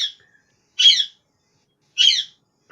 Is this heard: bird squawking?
yes